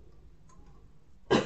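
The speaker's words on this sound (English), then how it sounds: "This stupid, silly cough is just driving me potty." A single sharp cough bursts out near the end, loud and close, after a stretch of quiet low room noise.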